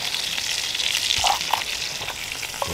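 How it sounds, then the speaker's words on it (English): Burgers fry on a cast iron skillet over a woodland campsite, a steady close sizzle and crackle with a few soft stirring knocks and no voices. "Something about cooking on a cast iron skillet, isn't there?"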